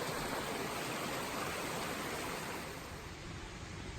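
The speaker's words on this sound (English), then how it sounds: "I love running water" A mountain stream rushing along a hiking trail on the Continental Divide Trail, a steady, close, broadband wash of running water that holds an even level throughout with no voices.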